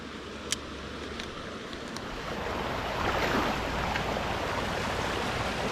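A small waterfall on a Tennessee creek gives a steady, broadband rush of falling water that swells slightly louder partway through, heard alone with a faint click near the start.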